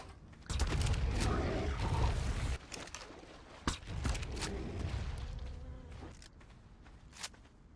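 Automated turrets fire in the video game Ark at an approaching Velonasaur, a loud burst of rapid shots followed by scattered sharp single cracks and thuds, with no talking.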